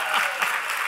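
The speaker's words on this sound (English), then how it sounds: "More applause." A short, bright burst of crowd applause, steady clapping heard alone for under a second.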